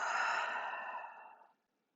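A single long open-mouthed exhale during a vinyasa yoga breathing practice, a breathy rush that starts strong and trails off over about a second and a half before silence.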